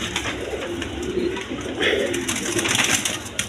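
Caged pigeons, a mated pair of male and female, coo in soft repeated bursts close by, with faint cage rustling and no talk over them.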